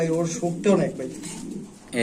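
Soft, throaty cooing of Sirazi pigeons rises and falls in a few close, rolling phrases with brief pauses between them.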